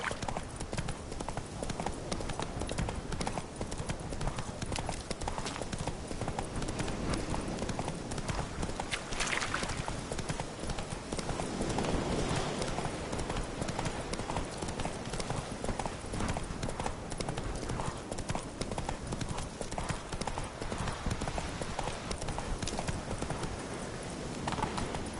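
Steady clip-clop of a horse's hooves trotting throughout in The Witcher 3: Hearts of Stone, close and continuous, with a brief whoosh midway and faint background ambience.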